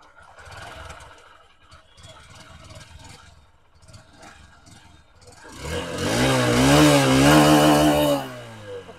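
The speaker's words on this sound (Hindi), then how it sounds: "बैठ करके आपको एग्जॉस्ट नोट इस बाइक का सुनाते हैं।" A 2023 Honda SP125 motorcycle engine starts up and idles with a steady, throbbing exhaust note, close and fairly loud, after a quieter stretch of faint rumbling.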